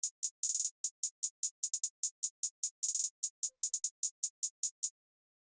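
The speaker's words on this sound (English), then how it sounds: "so it is in hi-hat" A crisp programmed hi-hat pattern from an FL Studio hip-hop beat plays alone, made of short bright ticks in a quick, slightly uneven rhythm with a few rapid rolls.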